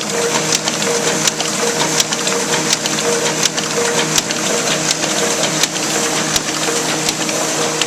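Ryobi 3302H two-color offset printing press feeding sheets, a loud mechanical rattle with regular sharp clacks repeating about every half second over a steady machine drone, close by and without talk.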